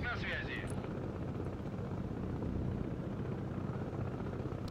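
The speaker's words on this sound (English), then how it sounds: "The fuck's this helicopter doing?" Helicopter flying in a video game, a steady low rotor rumble and drone held throughout the short clip, with a brief higher chirp at the start.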